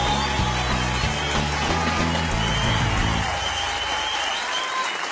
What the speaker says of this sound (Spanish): Aquí en Sábado Feliz lo recibimos con un fuerte aplauso